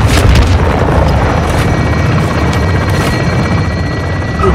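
A helicopter gunship in Modern Warfare 2 firing on a marked target, heavy rotor drone with loud rumbling gun bursts and booming explosions, dense and constant throughout, no speech.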